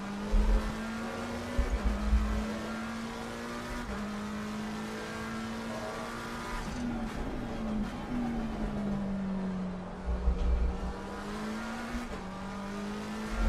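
A race car in a racing video game revs hard, its engine note climbing through the gears and dropping at shifts, a steady close drone with brief bursts of louder noise.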